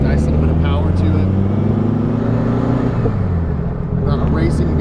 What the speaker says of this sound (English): It's got a really well dialed in engine.